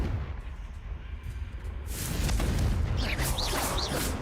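Confringo fire spell explosions in Hogwarts Legacy, a dense rumbling blast building midway and sustained to the end, with whooshing, sweeping magical effects layered on top.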